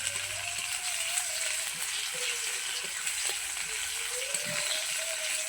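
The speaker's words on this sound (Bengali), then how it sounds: "তেল পাঁচফোড়ন আর পেঁয়াজ কুচি দিয়ে দিলাম। এবার ভালো করে ভেজে নেব পেঁয়াজগুলোকে।" Chopped onions fry in hot oil with panch phoron in a kadai, giving a continuous, even sizzle with faint bubbling and no talk.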